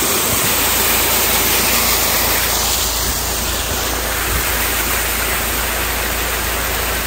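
Mountain waterfall beside the road at Saptashrungi Gad, a loud, unbroken rushing roar of falling water that holds steady from start to finish with no voices.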